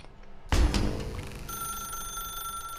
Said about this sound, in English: Now pick up the phone.